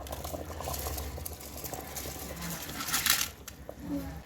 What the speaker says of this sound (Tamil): நல்லா கொதிச்சிட்ருக்கு.